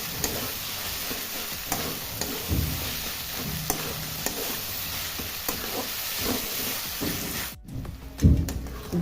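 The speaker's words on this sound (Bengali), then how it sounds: "টমেটোটা আমি 2 থেকে 3 মিনিট ভালোভাবে মশলার সাথে কষিয়ে নেব।" Tomato frying with spices for chicken curry, a close, busy sizzle with repeated spoon clacks and stirring scrapes, a brief drop near the end, then a few louder knocks.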